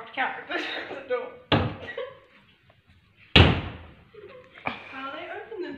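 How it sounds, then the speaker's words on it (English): A person performs a Minecraft-style door slam, producing two sharp, loud thuds a couple of seconds apart, with voices talking and laughing around them. "Let's do me slamming the door like Minecraft."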